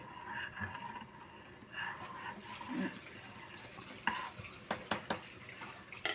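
A utensil stirs prawn biryani with ghee inside a pot, scraping with soft clinks and a few sharper knocks of metal toward the end; no one speaks.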